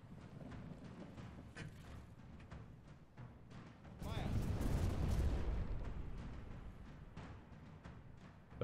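Cannon fire in the first-person pirate game Buccaneers: a loud, sustained broadband boom rolls in around the middle and slowly decays under a rumbling backdrop of battle noise, with a voice talking over the scene.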